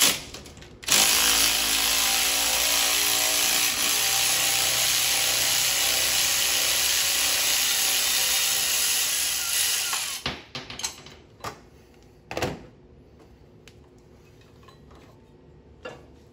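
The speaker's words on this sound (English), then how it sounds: "Now we can just pull the balancer off." A power tool drives a harmonic balancer puller to pull the crankshaft pulley off a 2001 Ford Mustang, whirring loud and steady for about ten seconds, then stopping, followed by a few sharp metallic clanks.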